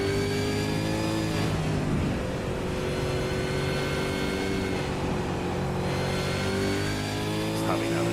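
A V8 Supercar engine in a sim racing game drives hard on the throttle out of a corner at Circuit de Barcelona-Catalunya, a loud, sustained engine roar rising in pitch, with race commentary talking over it.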